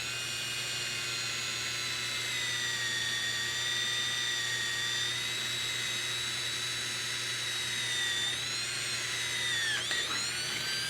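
A drill bores into sheet metal for rivets while a dust pan is fabricated, giving a continuous high-pitched whine that holds steady for the whole stretch, then dips briefly near the end.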